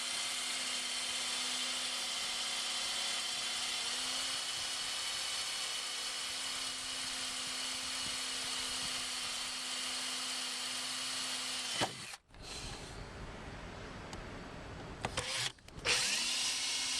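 A power drill whines steadily for a long stretch drilling into a Land Rover Discovery door for trim finishers, then cuts out and restarts in short, rough bursts.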